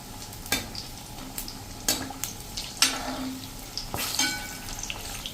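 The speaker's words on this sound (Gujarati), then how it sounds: "તો એને પણ ફ્રાય કરી લેશું." Green chilies frying in oil alongside dhebri, Nadiad street-food style, with a steady sizzle broken by several sharp stirring clanks and scrapes in the pan.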